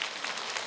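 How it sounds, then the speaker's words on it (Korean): A lecture audience listening to Catholic priest Hwang Chang-yeon breaks into a brief burst of applause, a dense clatter of many hands clapping at once. "저한테 박수 치지 마세요"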